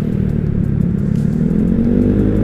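Honda Vario scooter engine bored up to 177 cc, running close and loud with a continuous rough, clattering mid-pitched drone and no voices.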